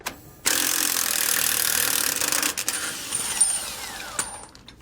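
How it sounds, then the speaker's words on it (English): A wrench and 1 1/8 inch socket working the nut and bolt of a Roadmaster rear anti-sway bar on a 2019 Coachmen Mirada motorhome, giving a loud, steady close metallic whirring that fades out, capped by a faint clink. "Then we'll go an 1 1/8" socket to remove the nut or bolt,"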